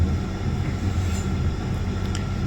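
A fast suburban train in Mumbai rushes past, a loud, dense rumble of wheels and carriages with a faint squeal on top, no voices.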